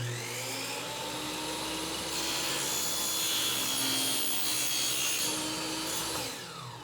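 A sharp TNT saw running at about 5,500 rpm cuts through aluminium with a continuous, loud, high-pitched whine that holds steady for several seconds before fading as the cut finishes.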